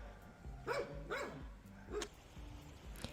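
A puppy barks while playing outdoors on a mountainside, giving several short yips and barks at moderate distance, fairly soft against quiet open-air background.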